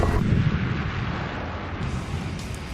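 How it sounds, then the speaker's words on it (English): Distant insurgent gunfire in Afghanistan, a dull continuous rumble of far-off shots and booms with no clear individual reports, steady and moderately loud throughout. "insurgent gunfire rings out in the distance."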